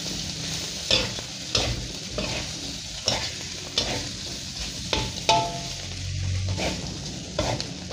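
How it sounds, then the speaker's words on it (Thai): Blanched pork belly stir-fried in homemade red curry paste made without shrimp paste: a constant close sizzle punctuated by repeated scraping stirs of the spatula in the pan, with no talking. "พอเราผัดพริกแกงหอมดีแล้วก็ใส่หมูของเราที่เราลวนไว้เลยครับ"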